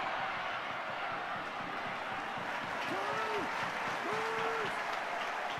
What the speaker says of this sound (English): Breers leading the applause for the run from Breers